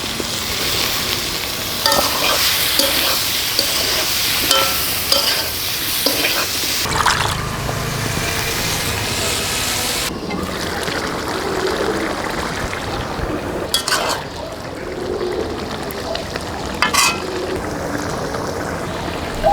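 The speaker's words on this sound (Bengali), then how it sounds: "সিদ্ধ করা কাঁঠাল মশলার মধ্যে দিয়ে দিলাম।" Boiled raw jackfruit is stirred and fried in spice paste, making a loud, close sizzle with scraping stir strokes. The frying gets quieter and more sputtery partway through. There is no talking.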